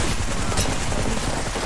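Dense, continuous automatic gunfire in the battle royale game Apex roars loud and unbroken for a couple of seconds, with no voices over it.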